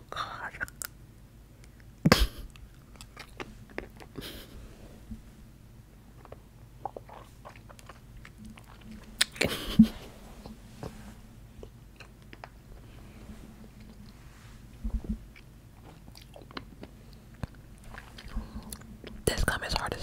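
Someone chews hard gum close to the microphone, with sparse crunching bites and wet smacking spread through a quiet background and occasional whispering.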